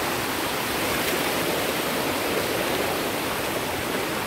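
Waterfall at Pinsan Falls in strong flow, a loud, constant full-bodied roar of rushing water with no pauses.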